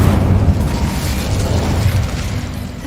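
An Incendio fire spell goes off in Hogwarts Legacy, a loud roaring burst of flame that stays heavy and dense throughout, gradually easing toward the end.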